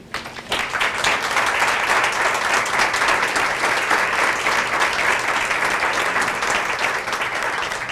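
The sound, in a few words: applause for young program participants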